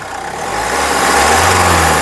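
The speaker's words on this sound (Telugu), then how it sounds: "ఇంజిన్ యొక్క నాయిస్ కూడా చాలా అంటే చాలా స్మూత్గా అయితే ఉందండి" The diesel engine of a 2012 Mahindra XUV500 W8 idles close by, a steady low rumble with a constant mid-range drone that swells slightly in the first half-second.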